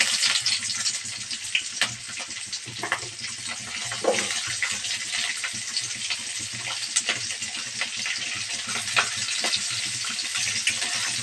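Urad dal, dried red chilies and onion frying in hot oil, giving a steady, close, dense sizzle with scattered crackles and pops throughout, no voices.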